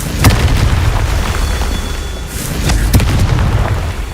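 Confringo blasting spell exploding in Hogwarts Legacy on hard difficulty, several loud close booms with sharp bursts punching through a rumbling, noisy combat backdrop.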